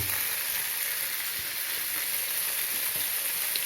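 Food cooking on a Moulinex Accessimo plancha as water boils off, a dense, constant hissing sizzle that stays loud and even throughout, with no voices.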